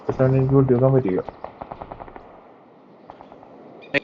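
Rapid gunfire in the mobile shooter Call of Duty Mobile, a burst of quick repeated shots under loud talk at first, then scattered single shots fading out, with one final crack near the end.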